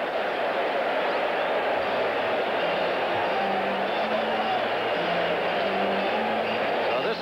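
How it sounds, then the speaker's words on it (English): A baseball stadium crowd at a 1985 White Sox versus Yankees game sends up a steady, distant roar of cheering throughout, with a broadcast voice partly mixed into the din. "this crowd has come to life here at the stadium"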